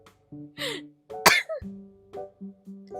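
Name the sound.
coughing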